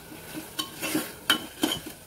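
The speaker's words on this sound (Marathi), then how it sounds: "चांगलं ढवळून घेऊया" A spoon stirs salted food in a pressure cooker pot on a home stove, several distinct scraping knocks against the metal in an uneven rhythm, close and clear with no talk.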